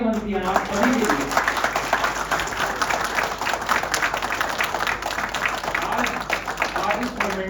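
Loud applause from a seated audience in a hall at an NGO event, dense continuous clapping with a voice talking over it near the start and end.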